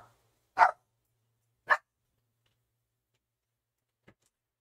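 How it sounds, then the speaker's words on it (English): A dog indoors barks twice in short, separate woofs about a second apart, followed by a much fainter third bark, against near silence. "Oh, what's my dog barking?"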